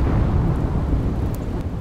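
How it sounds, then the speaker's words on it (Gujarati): Heavy rain pours down in Valasan village, Jamjodhpur, Jamnagar, as a dense, loud, continuous wash of noise with a low rumble beneath it. "જામનગરના જામજોધપુરમાં ધોધમાર વરસાદ ખાબક્યો"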